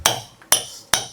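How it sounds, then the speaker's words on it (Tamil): A chisel is struck three times at an even pace to break a piece out of a large glass-fronted aquarium tank build, each hit a sharp close metallic clink with a short ring. "இந்த உளியை எடுத்து அடிச்சு இதை இலக்கி வெளியே எடுக்க போறோம் பீஸா."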